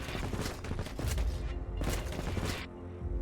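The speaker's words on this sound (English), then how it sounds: "Acid grenades sound like a war crime." Acid grenades go off in a video game in a ragged string of loud, hissing blasts, several bursts close together with short gaps between them, all close and harsh.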